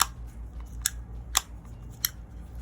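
Sharp plastic clicks from a lightweight Dragonhawk Mast plastic tattoo foot pedal, four distinct presses spaced unevenly, close and clear over a quiet background hum.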